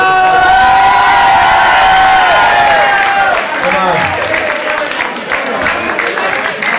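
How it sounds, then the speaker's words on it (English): Loud audience applause and cheering at a Glenties X Factor talent show: a roaring crowd with whoops and shouted voices on top, easing slightly after the first few seconds into sustained clapping and scattered cheers. "I think deserve a massive round of applause."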